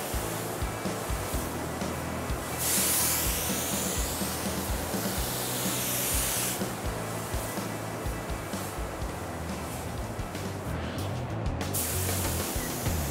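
A spray gun applying high solids 72-500 clear coat to a classic Bronco, a steady loud hiss of atomized spray running continuously with brief surges where the trigger is pulled harder.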